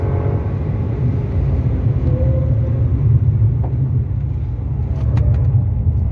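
A Toyota GR Yaris 1.6T GR-Four is driven briskly on a track, with a steady, loud engine drone and road rumble heard from inside the car.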